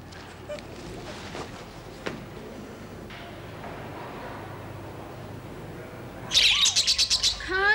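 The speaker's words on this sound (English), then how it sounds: "They are budgerigars. Well, they're making too much noise." Budgerigars chirp in a rapid, loud burst of high twittering calls that starts near the end, over a steady low room hum.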